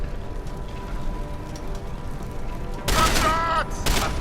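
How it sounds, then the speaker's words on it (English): A burst of rapid gunfire erupts in the video game Deus Ex: Human Revolution after a quiet stretch, loud and close, followed by a second short burst. "Gunshots! I've got you now."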